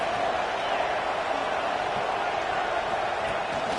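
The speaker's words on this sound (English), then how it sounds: "Listen to the crowd energy here in the early going." Football stadium crowd at a Kent State versus Oregon college game, a loud, sustained broadband roar of many voices cheering without pause, with speech mixed in.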